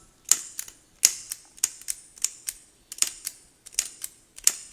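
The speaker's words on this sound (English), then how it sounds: "Mechanism is sparking as we want it to" An unbranded lighter's flint wheel is struck again and again, each strike making a sharp, close scraping spark. About a dozen of these bright clicks come in a quick, uneven rhythm with no voices.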